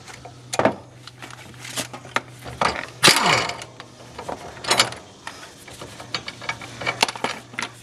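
A 13mm socket wrench works a pulley bolt loose on a John Deere X570 riding tractor, giving a series of close metallic clicks, ratcheting and clanks at irregular intervals, with no talk.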